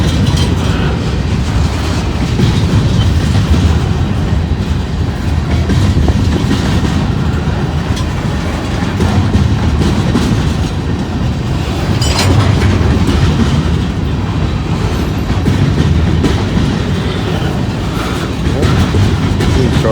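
A freight train headed back south to carry steel slabs rolls past nearby, its cars producing a loud, continuous clickety-clack rumble that holds steady throughout.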